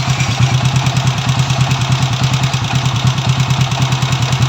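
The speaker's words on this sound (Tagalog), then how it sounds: "Maganda pa yung andar ng makina." A Honda TMX 155 motorcycle engine runs steadily at idle, a close, loud, even chugging pulse that continues alone throughout.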